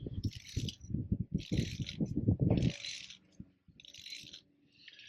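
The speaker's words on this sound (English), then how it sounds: "So that's obviously starting to cut through the armoured." Cutter blade grinding round steel wire armoured cable in bursts of rattling, ratcheting scrapes, heavy and close for the first few seconds, then lighter intermittent clicks with bright metallic hiss between strokes.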